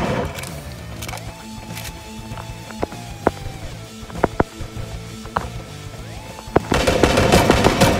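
QBZ rifle fire in the video game Sausage Man, sharp single shots and short bursts scattered over game music and ambient effects, with louder action building at the end.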